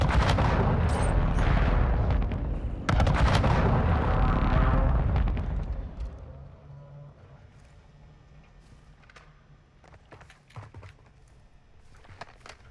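Gunshots in Call of Duty Warzone battle royale: loud sharp close shots and heavy booms crowd the first six seconds, then fainter, distant scattered pops follow against quieter background, with brief talk.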